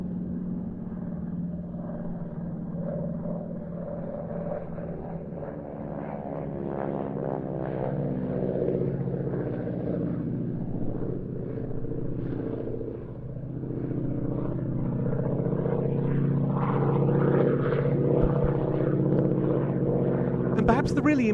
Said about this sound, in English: This was a powerful aeroplane with the 600 horsepower Pratt & Whitney Wasp radial